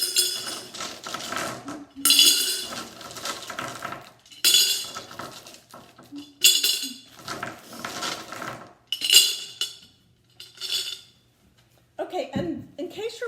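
Small black decorative pieces dropped into a glass jar, giving irregular bursts of clinking and rattling glass, close and fairly loud, separated by short quiet gaps, with a faint scrape at the end.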